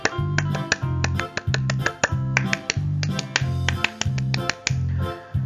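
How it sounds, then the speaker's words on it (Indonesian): Indonesian scout rhythmic clap performed alone, crisp close claps in a repeating patterned rhythm with short pauses between phrases, sounding three times over. "3 kali tepuk pramuka."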